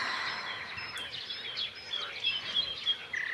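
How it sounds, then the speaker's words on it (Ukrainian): Morning birdsong outdoors, several birds chirping and trilling in short bright calls scattered over a soft, airy background, fairly faint and distant with no voices. "Спів пташок отак слухав би й слухав зранку до ночі."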